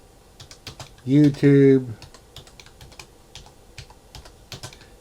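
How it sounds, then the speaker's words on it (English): Fast clicking keystrokes on a computer keyboard, close and crisp, with someone briefly speaking over the typing partway through. "I'm going to type in church"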